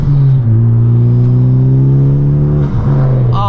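A Honda Civic Type R, ninth generation, with a stage 3 flex fuel tune, revving up under turbo boost; a loud, steady droning engine note climbing in pitch, heard close from inside the car, with no talking.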